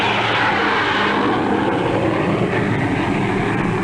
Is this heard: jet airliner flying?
yes